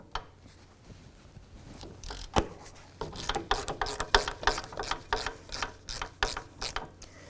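A hand ratchet with a 15mm socket clicks as it breaks loose the front brake mounting bolts on a 2001-2007 Volvo V70 XC, a sharp crack followed by a run of quick, close pawl clicks.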